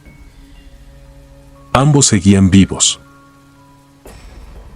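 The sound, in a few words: rain falling, sound effect in a narrated story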